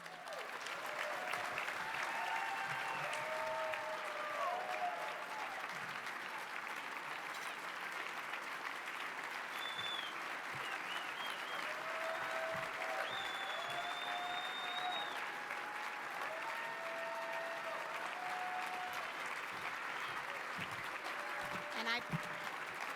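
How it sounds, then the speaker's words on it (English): Sustained audience applause at the 2016 Horizons Foundation Visionary Award ceremony, a steady dense wash of clapping lasting throughout, with scattered voices and faint cheers mixed in. "I invite you to give a round of applause"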